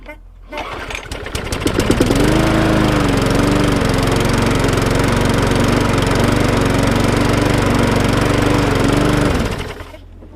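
A Briggs & Stratton 450 flathead engine on a self-drive lawn mower starts up and runs at a steady, loud, close-up putter for several seconds before cutting out.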